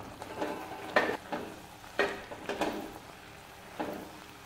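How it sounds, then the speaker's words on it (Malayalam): Curry being stirred and mixed in a pot during cooking, a few soft scraping and sizzling strokes spaced irregularly, fairly quiet and close with no talking. "അപ്പോൾ ഇനി നമുക്കൊന്ന് ഇളക്കി യോജിപ്പിക്കാം."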